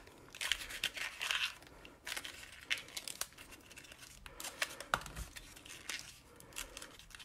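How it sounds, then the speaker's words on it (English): Paper crinkles and crunches up close in irregular bursts as it is scrunched by hand, with short pauses between handfuls. "I'm going to crumple it all up."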